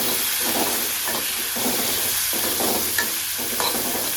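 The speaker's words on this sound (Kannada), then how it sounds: "ಎಲ್ಲ ಚಲೋ ಮಿಕ್ಸ್ ಮಾಡ್ಕೊತಾ ಇರಬೇಕು. ಟೊಮೆಟೊ ಹಾಕ್ಕೊಂಡೇನೆ." Tomato frying in a hot tempering for churumuri, stirred steadily: a continuous close sizzle and hiss with soft scraping stirs recurring through it.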